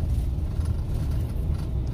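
A car drives in traffic close to a truck, producing a steady low road rumble and engine drone that continues without a break and without talk.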